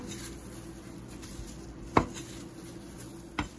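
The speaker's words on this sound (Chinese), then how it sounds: "这样斜着把它切成小片，就比较容易浸润。" A knife cuts bamboo shoots into thin slanted slices on a board, two sharp, isolated chops about a second and a half apart against a quiet kitchen background.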